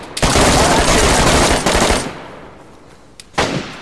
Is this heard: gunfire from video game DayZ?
yes